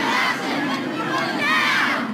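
A crowd of about 3,000 student climate protesters in Melbourne shouts together on the steps of the old Treasury building, a loud sustained roar of massed voices rising and swelling in chanted cries.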